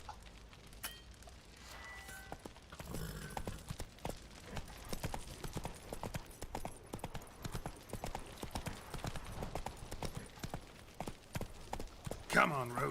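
The horse Roach trots through The Witcher 3 video game, its hooves clip-clopping steadily and quietly for the whole stretch while voices talk over the top.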